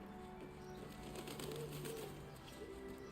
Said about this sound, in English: how did those birds just escape?